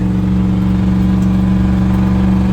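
A Ford 7.3 IDI diesel truck rumbles through its exhaust pipes while driving with the window down, a loud, steady low drone close by, unbroken and without talk.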